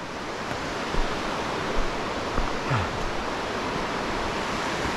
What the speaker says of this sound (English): that loud noise you hear is a waterfall